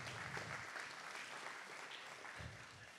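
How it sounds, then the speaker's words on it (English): At a church retreat session, a congregation applauds the author Milton Vincent with a broad wash of clapping, faint and distant overall, continuous across the few seconds with no voices on top. "please give him a round of applause"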